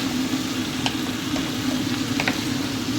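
Carrots, potatoes and sweet potato stirred in a hot pan, a steady close sizzle with a constant hum and a few faint scraping clicks over about three seconds.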